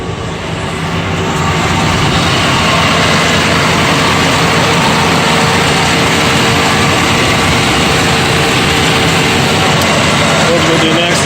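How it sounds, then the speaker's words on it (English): A Nissan Xterra engine with a noisy drive belt starts and then runs loudly and steadily up close, its whirring drone continuous under brief talk. "belt is making that sound, needs to be addressed."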